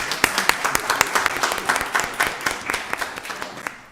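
A roomful of people at a county board of commissioners meeting claps for a commissioner; the sharp, distinct hand claps are spaced and uneven, forming a modest, close burst of applause rather than a roaring ovation.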